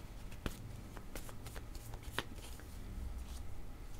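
A deck of tarot cards is shuffled, giving faint riffling and soft slaps with a few crisp snaps close by at low volume.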